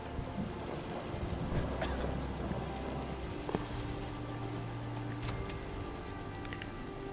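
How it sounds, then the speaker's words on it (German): Steady rain falls in the Fallout 4 video game, a continuous hiss of downpour that holds for the whole stretch, with a few brief faint clicks and tones over it and no one talking. "Und es regnet."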